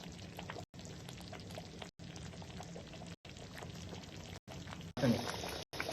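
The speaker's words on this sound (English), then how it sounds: "Now I am going to add fresh cream in it." Fresh cream poured into a thick Mughalai shahi paneer gravy, a steady liquid pour with faint bubbling, broken by brief pauses and rising louder near the end.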